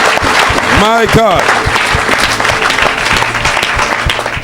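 A church congregation breaks into applause, dense clapping throughout, while a voice exclaims briefly near the start.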